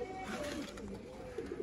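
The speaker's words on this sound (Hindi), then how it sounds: "वर्ल्ड फेमस दोस्तों सियालकोटी जौंसरे कबूतर, मुश्किल से हासिल किया गया जोड़ा" Sialkoti pigeons cooing, a soft low murmuring coo repeating over a brief moment amid a steady background hiss.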